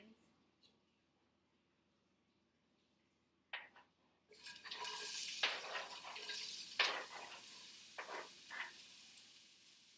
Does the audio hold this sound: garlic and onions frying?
yes